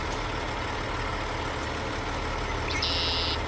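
Steady low rumble of a tractor engine running in Farming Simulator 22, a constant even drone with a brief high electronic tone near the end.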